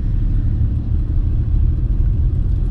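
Car engine pulling steadily just after a shift into third gear at about 20 km/h, a continuous low rumble with a mild rise in revs, close and loud, with no talk over it.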